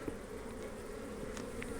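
Honey bees swarm around a late-season nuc hive, their buzzing a steady, continuous close drone with no break and no voices, and a few brief higher whines from single bees passing near.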